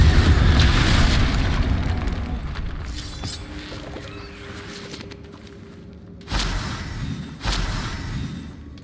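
Spell explosions from Bombarda and Confringo in the Hogwarts Legacy video game, heard as a loud rumbling blast that decays slowly, followed by two more sudden booming impacts near the end.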